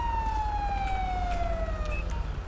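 Police car siren in the game GTA LSPDFR, a loud continuous wail sliding slowly downward over a steady engine drone, heard alone with no talk.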